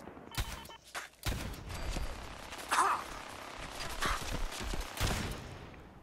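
Gunfire from enemies in Fallout 4, with a Super Mutant Warlord nearby: a scattered string of sharp shots and bursts spread unevenly over several seconds, mixed with clanking mechanical noise and a faint gasp.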